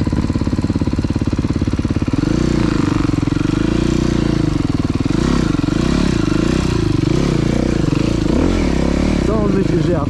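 Supermoto motorcycle with an FMF exhaust riding in a gravel pit, a loud close engine that revs and surges in waves, with gravel clatter and someone talking over it.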